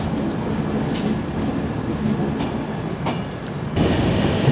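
The 12284 Duronto Express runs on, heard from inside an AC 3-tier coach: a steady rumble of wheels on rail with faint rhythmic clicks over joints and a louder surge near the end.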